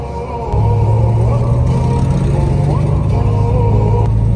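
A car pulls away after a wheel alignment, its engine a steady, loud rumble close by with a faint whine above it, and speech briefly underneath.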